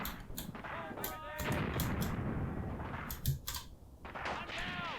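Tank cannon fire in a WWII tank combat video game set in Tunisia 1943 comes through as repeated sharp booming blasts and cracks in quick succession, with voices talking over the noise.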